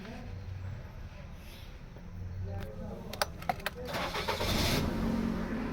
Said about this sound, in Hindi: अभी गाड़ी को स्टार्ट करते हैं